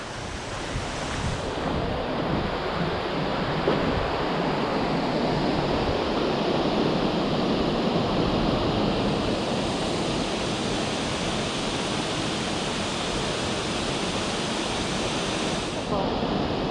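A steady, loud roar of a waterfall, spray hitting the pool below, fills the whole clip, a dense broadband rush with wind buffeting the microphone and no voices, near the Stone Store, Kerikeri.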